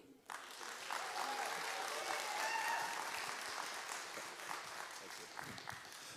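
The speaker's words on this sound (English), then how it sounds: "could you please give a warm round of applause to Jim Murphy?" A summit crowd applauds a director as he is welcomed to the stage, producing a sustained, fairly soft roar of clapping from many people that starts abruptly and stays even throughout.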